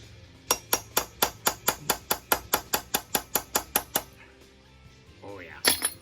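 A hammer strikes a stamp into a domed sterling silver buckle fitting, giving about seventeen sharp, evenly spaced metallic taps in a quick steady rhythm. After a short pause a voice briefly murmurs and one more clink follows.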